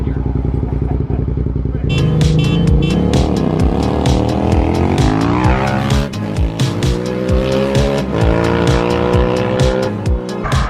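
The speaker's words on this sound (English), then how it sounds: "That is a Razor electric motorcycle." A Razor electric motorcycle riding nearby: a loud, steady motor whine climbs in pitch as it speeds up, with sharp rattling clicks throughout and a rider's voice mixed in.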